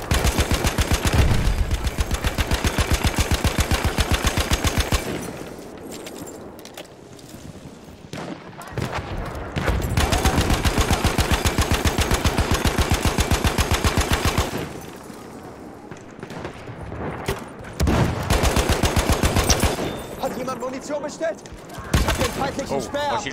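Long sustained bursts of rapid machine gun fire in Battlefield 1, several extended strings broken by short pauses, loud and close, with players talking between and over the shooting.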